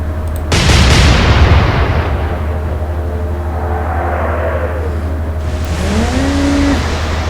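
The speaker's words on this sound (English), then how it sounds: "open fire. Fire!" Naval guns in the video game Atlantic Fleet fire one heavy, sudden boom that rumbles off into a long low roar, with engine drone throughout and a whistling sweep near the end.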